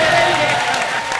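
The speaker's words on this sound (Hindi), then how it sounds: "पहली बार जोरदार तालियां हो जाए मेरे लिए" Studio audience on a comedy show breaking into loud applause, a brief dense burst of clapping with some crowd noise.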